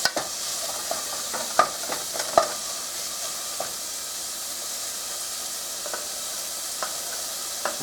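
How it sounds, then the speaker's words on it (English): Soft, steady sizzling of onions sweating in a pot, with occasional pops and small crackles, close by and without talk. "you can hear my onions sweating"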